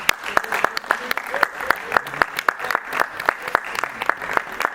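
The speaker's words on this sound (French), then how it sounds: "est-ce qu'on peut acclamer pour la famille de Claudia?" Wedding guests applaud for the bride's family, a dense burst of clapping mixed with cheers and a few shouts, steady and lively from start to finish.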